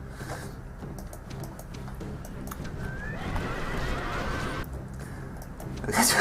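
Horses of horse archers in Rome: Total War, whinnies and clip-clopping hooves amid battle noise, with a neigh rising clearly in the middle and clatter at the close.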